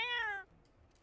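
A cat meows once in The Sims 4, a clear rising-and-falling call that fades out after about half a second, followed by quiet game background.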